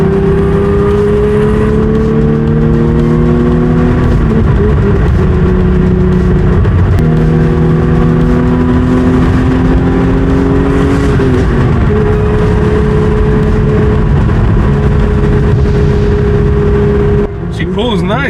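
A 1973 Porsche 911E with its 2.7 engine accelerating on the road, loud steady engine drone rising in pitch through several gear pulls, heard from inside the car.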